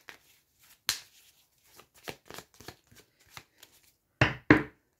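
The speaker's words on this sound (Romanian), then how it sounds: "Cărțile sunt amestecate, eu am să le mai amestec un pic" A deck of reading cards is shuffled by hand in quick, quiet bursts of riffling and slapping, scattered irregularly across a few seconds, ending with two louder close shuffles; no voices.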